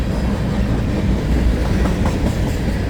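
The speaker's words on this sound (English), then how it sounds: "So yeah, those are all no doubt grain hoppers." Loaded BNSF grain hopper cars roll by in Montana, a dense, close rumble with steady clickety-clack of wheels over rail joints and no voices.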